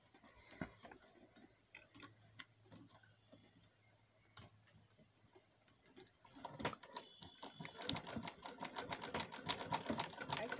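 A sewing machine fitted with a hemming foot roll-hems fabric, starting with soft scattered ticks and taps, then running in a steady rapid stitching rhythm that grows louder toward the end.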